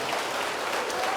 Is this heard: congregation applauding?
yes